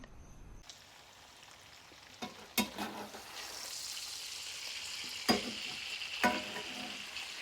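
Pork sausage frying in rendered fat in a pan, a steady sizzle with several sharp clatters as a slotted spoon lifts pieces out; a brief word is spoken.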